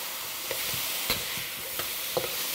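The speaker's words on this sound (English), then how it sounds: "We're going to stir fry these for 1 minute" Diced green and red peppers with onions stir-fry in a hot pan, making a continuous bright sizzle punctuated by several light scrapes of the spatula, with no talking.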